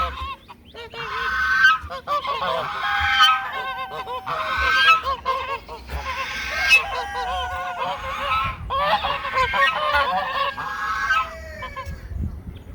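A buff goose named Lee honks loudly and repeatedly at close range. The harsh calls come in quick bursts with almost no pause, and no one speaks.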